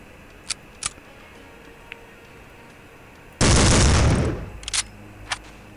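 Rifle fire in Soldier of Fortune II lands as one loud, close blast of about a second with a decaying tail, amid a few faint clicks and taps before and after; no talk.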